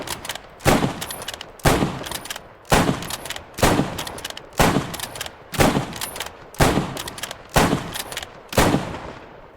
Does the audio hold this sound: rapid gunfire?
yes